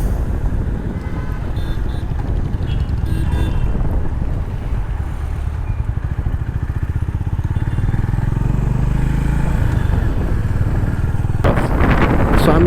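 A Honda CB350RS motorcycle is ridden along, its low engine drone steady and close beneath heavy wind buffeting on the microphone, with a sharp rise in noise near the end.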